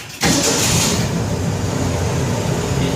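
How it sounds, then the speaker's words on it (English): A propane-carbureted step van engine cranks briefly and catches almost at once, then settles into a steady, fairly quiet idle, close by with no talking. "Propane carburetor, whether this thing is cold, warm, or otherwise, it starts right up"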